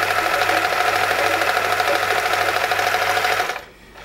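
A Privileg 865 sewing machine runs an overlock stitch with a loud, even, rapid mechanical whir at close range for about three and a half seconds, then stops abruptly.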